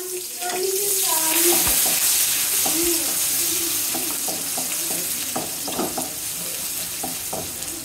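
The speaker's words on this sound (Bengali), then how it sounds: "তেল গরম হয়ে গেছে, পেঁয়াজ দিয়ে দিলাম।" Onions frying in hot oil make a steady, loud sizzle throughout, with stirring clatter and some faint background voice-like tones.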